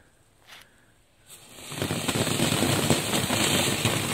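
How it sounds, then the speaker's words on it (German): Destruction Flare firework fountain igniting in snow: a short hiss, then a loud, dense crackling spray that builds and keeps sputtering steadily close by. "Destruction Flare Fontäne aus dem Highly Skilled."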